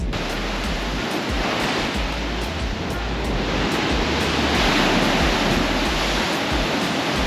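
Surf rolls and crashes continuously at Crash Boat Beach in Puerto Rico, a dense, steady wash of ocean waves with wind buffeting the microphone and no voices.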